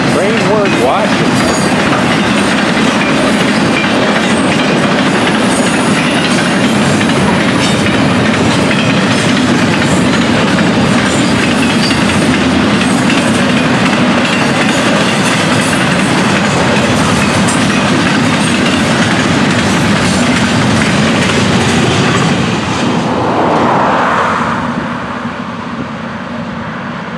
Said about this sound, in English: And it's a train worth watching.